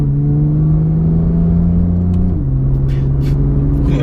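A Porsche GT3 engine revs loud and close under acceleration, a steady droning growl that steps down in pitch with a gear change partway through, then carries on strongly.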